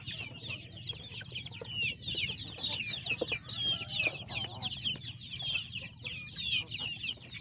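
Kabir and Rhode Island Red chicks huddle and cheep in a rapid run of high peeps, joined by soft clucking from fowl, close and fairly quiet with no talking.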